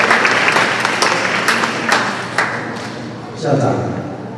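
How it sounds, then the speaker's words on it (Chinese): An indoor audience at a parent-teacher meeting applauds to welcome the parents' association president: a steady patter of clapping from many hands, with a few louder claps and a voice rising briefly near the end. "所以请大家用热烈掌声欢迎我们陈英智陈会长"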